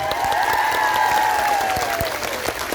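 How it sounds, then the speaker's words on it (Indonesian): Audience applause at an Islamic religious gathering (pengajian) in Taiwan, dense and steady clapping from a crowd throughout, with a faint voice and tonal sounds drifting over it. "Tepuk tangan untuk beliau"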